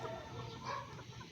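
A White Kelso chicken on a backyard farm clucks quietly and steadily over a low, noisy background, with no talking.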